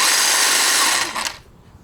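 A Milwaukee battery-powered outdoor power head with a trimmer attachment runs at a steady, smooth electric whine close by, then spins down and falls quiet near the end.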